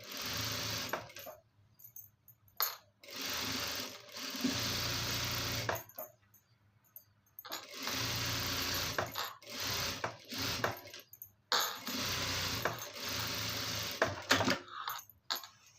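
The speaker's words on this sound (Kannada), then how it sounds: "ಇಲ್ಲೊಂದು ಸ್ಟಿಚ್ ಹಾಕೊಳ್ಳೋಣ" A sewing machine stitches a fabric frill in repeated close bursts of rapid whirring, stopping and starting with short pauses and small clicks between runs.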